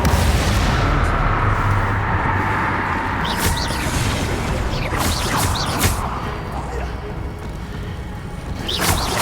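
Spell blasts from the Confringo fire curse in the video game Hogwarts Legacy, several loud explosive bursts over a dense rumbling background of combat noise, with a player occasionally speaking.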